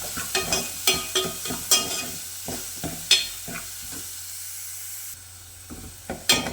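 Sliced onions with a pinch of salt sautéing in a pan, a continuous sizzle broken by rhythmic scraping and stirring knocks close by.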